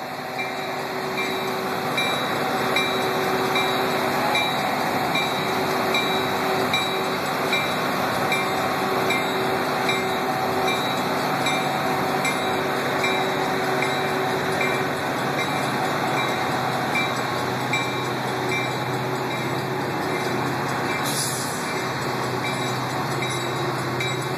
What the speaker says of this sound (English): I'm going to wait for the train to go past